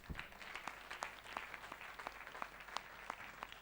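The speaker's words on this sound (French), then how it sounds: "Applaudissez un peu Jésus" A church congregation applauds during a sermon, steady mid-distance clapping from many hands with no voices.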